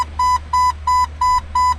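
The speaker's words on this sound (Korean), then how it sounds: "시동을 안 걸고 라이트를 켜면 방전될 수 있어서 얘가 알람을 해주는 겁니다" A 1997 Jeep Wrangler sounds its headlights-on warning with five evenly spaced, loud electronic beeps, each lasting about a fifth of a second, over a low background hum.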